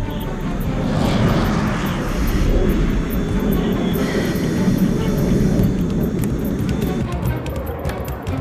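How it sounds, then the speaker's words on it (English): F-15 fighter jets in flight over enemy territory produce a loud, continuous broadband engine roar that holds steady for about eight seconds, with a faint sense of voices mixed beneath it. "Here, a squadron of F-15 search enemy territory for potential targets."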